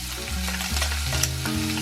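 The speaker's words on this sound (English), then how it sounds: "Stir fry again and soon you will be able to smell the flavor of spring onions." Chopped spring onions and minced ginger stir-fry in a hot pan, a loud close sizzle with scraping and tossing strokes of a spatula over a steady hiss, no voices.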